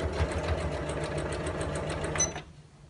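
A sewing machine stitches through two layers of fabric over a tote bag handle, running with a steady rapid mechanical whir and tick for over two seconds before stopping abruptly, close and moderately quiet.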